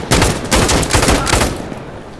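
Rapid bursts of M249 SAW machine gun fire in Insurgency: Sandstorm, loud and close, a sustained rattling fusillade in a few strings that tails off after about a second and a half.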